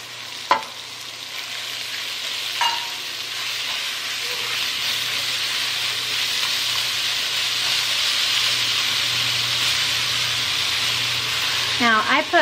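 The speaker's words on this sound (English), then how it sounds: "You're gonna go ahead and add your onions." Chopped onions sizzling in a hot pan for pot pie filling, a steady broadband frying hiss running through the whole stretch, with a couple of faint clicks early and a brief voice near the end.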